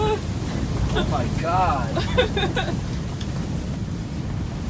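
Strong gusting wind buffets the microphone during a windstorm out on Lake Simcoe while perch fishing, a loud continuous rumble with water noise beneath, as a person briefly exclaims over it.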